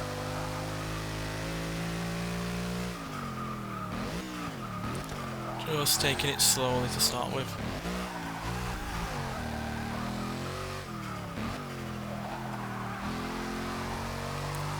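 A 2012 Mercedes-Benz C 63 AMG Coupé Black Series with twin turbochargers is driven on a lap, its engine droning steadily with revving and rising pitch changes, under near-continuous talk from the driver.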